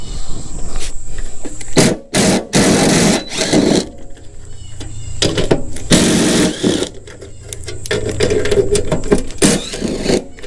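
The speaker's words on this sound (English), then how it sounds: "I'm going to use my low powered impact wrench so I don't break these." A low-powered impact wrench backs bolts out of a bearing housing, firing in repeated short, loud, close-up rattling bursts with brief pauses between them.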